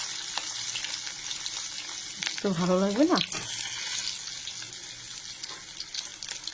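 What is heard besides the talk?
frying food in a pan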